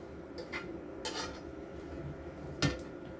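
Bang bang chicken salad tossed in a bowl, with a few light clinks and scrapes of a utensil against the dish, faint and close with no talking.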